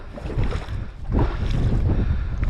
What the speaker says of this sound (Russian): мы будем надеяться, что ветер все-таки утихнет